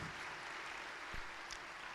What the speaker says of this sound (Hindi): आइए पाकरू को जोरदार तालियों में वेलकम कीजिए